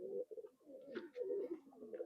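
An old Khulna nose-pulling breed pigeon coos softly and close, a run of low throaty rolling calls with short pauses between phrases.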